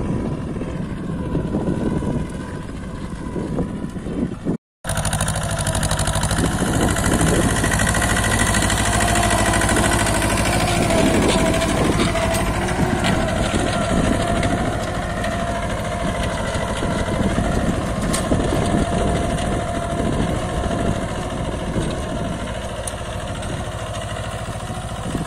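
A Mahindra Jivo 245 DI 4WD tractor pulling a cultivator through a field in second gear, its diesel engine a loud, steady, continuous drone after a brief cut near the start.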